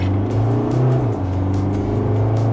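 A 3-liter turbo diesel Isuzu D-Max X-Terrain pulls at full throttle after a toll booth, a loud, steady low engine drone heard from inside the cab with a brief pitch change early on.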